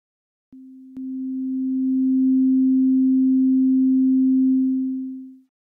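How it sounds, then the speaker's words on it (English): A pure, clean sine tone from the Phosphor 2 additive synth on iPad with no harmonics, a single steady low-mid note held for about five seconds after a click, loud and close, fading out at the end. "Phosphor 2 is now producing a clean sine waveform without any harmonics added to it"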